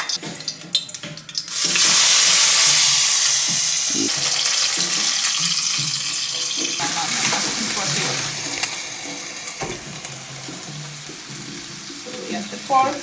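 Oil spitting and sizzling in a hot pan as pork noodles cook, a loud steady hiss that flares up after a sharp start and continues with clatters and brief voices underneath.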